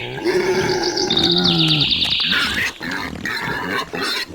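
A wild boar grunts and roars loudly up close in a forest, with harsh, squealing calls in the first half and rougher, broken grunting after.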